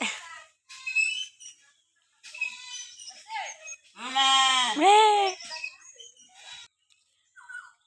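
Goats bleat in a village, with one clear drawn-out bleat standing out midway, while people talk intermittently around it.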